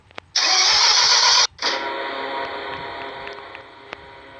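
A car engine in the game Roblox Car Dealership Tycoon cranks and roars to life, then settles into a steady, loud idle with small clicks, sounding close and alone with no talking.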